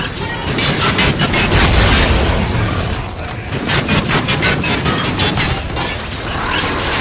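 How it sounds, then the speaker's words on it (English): Dense, rapid bursts of automatic gunfire and booming impacts from the Call of Duty: Infinite Warfare video game, loud and continuous throughout with clattering mechanical weapon sounds layered in. "I'm going to shoot"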